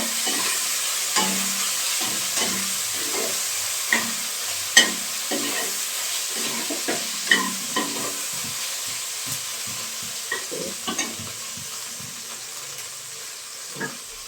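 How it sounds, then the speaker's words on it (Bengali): Spice masala sizzles quietly in a pan, with soft frying hiss and a string of scattered stirring scrapes and taps recurring every second or so, with no voices. "দিয়ে মশলাটা খুব ভালো করে কষে নেব।"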